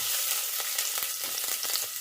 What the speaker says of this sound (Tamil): இப்போ பன்னீர் பட்டர் மசாலாவுக்கு நம்ம கொஞ்சம் ஆயில் போட்டு